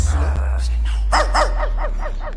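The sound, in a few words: dog barking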